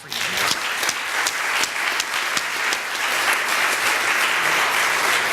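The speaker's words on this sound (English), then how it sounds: "let us stand again and let us clap for" A standing church congregation at St Paul's claps steadily throughout, a dense crowd applause with individual sharp claps popping through, loud and sustained.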